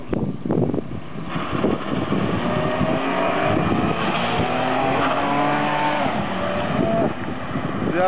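A car with a 3.0 V6 engine pulls away and revs hard, the engine note climbing through rising harmonics and holding loud and steady, with no talk over it.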